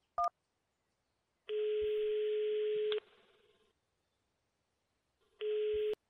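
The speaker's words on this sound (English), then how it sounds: "why is you calling from Sad Belly's phone number" A telephone line in the Runaway 3 adventure game gives a short click, then two long steady electronic call tones separated by a silent gap, clean and loud with no voices.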